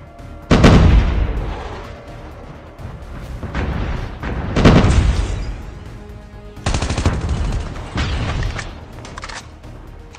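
Airstrike explosions in a video game land as several heavy booms, with rapid gunfire-like bursts between them and loud rolling decay after each blast.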